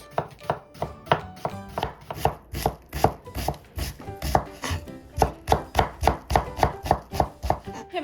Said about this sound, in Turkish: Öncesinde bir büyük boy soğanımızı yemeklik ince ince küp küp doğruyoruz.